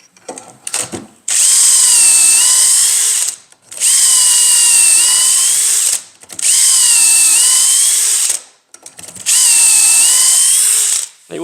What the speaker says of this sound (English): let's drill these 4 holes